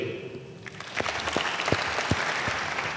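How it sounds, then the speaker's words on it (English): Audience applause at a graduation ceremony for a tech skills program cohort in Kenya, building from a low murmur into steady clapping with a few sharp, distinct claps standing out. "Another round of applause"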